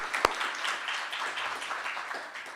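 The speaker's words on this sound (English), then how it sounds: "Can we give them a round of applause?" Applause from a symposium audience, a steady moderate wash of clapping heard from a little distance, with one sharp nearby clap near the start.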